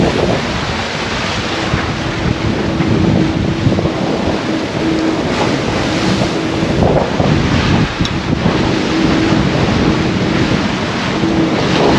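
Strong wind of 25 to 30 knots buffets the microphone over the rush of waves against a sailing boat moving at night, a loud, constant roar with no voices.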